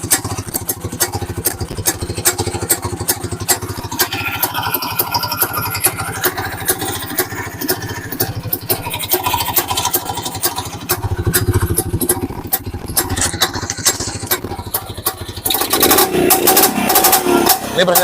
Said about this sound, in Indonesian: Motor ini langsamnya nyenengin banget